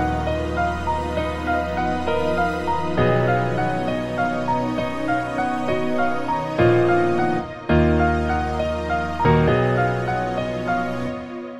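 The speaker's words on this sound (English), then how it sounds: "Then I laid out a synth lead and I added some effects in a pattern that sounds like this." A synth lead melody with effects, programmed in FL Studio for a hard trap-style beat, plays alone with no talking. Sustained notes step through a pattern with rhythmic pulsing, and a brief gap near the end before the line resumes.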